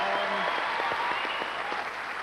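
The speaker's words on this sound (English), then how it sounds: "thank you so much for that extraordinary applause." Sustained audience applause fills the hall at an awards ceremony presenting the Laurence Olivier Award for Best New Comedy, a steady dense wash of clapping with no break.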